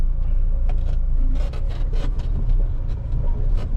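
Car engine rumbling steadily as the vehicle drives in, loud and continuous throughout with a deep low drone.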